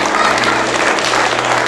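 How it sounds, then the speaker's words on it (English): Loud, close applause at a Wing Chun kung fu academy's 10th anniversary, as the audience claps for an absent student. A dense wash of hands fills the whole short stretch with a steady hum beneath it. "Give him a clap anyway."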